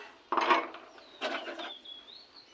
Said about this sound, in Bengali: সয়াবিনটা সেদ্ধ হতে হতে মশলা বেটে নেব